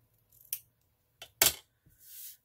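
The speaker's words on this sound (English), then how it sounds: "Maybe trim this a little more." A few quick snips of scissors cutting paper, close and crisp, separated by short pauses, with a soft rustle at the end.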